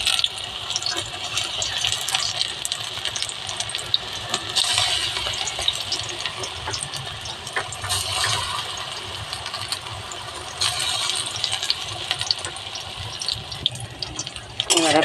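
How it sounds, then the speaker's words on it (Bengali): Small spoonfuls of besan batter frying in very hot oil, a continuous crackling sizzle with bursts of spitting, close and fairly loud, no talk. "এবারে অল্প অল্প করে ছোট ছোট করে বেসনগুলো দিয়ে দেবো।"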